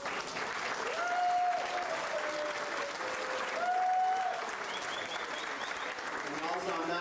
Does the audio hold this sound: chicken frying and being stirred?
no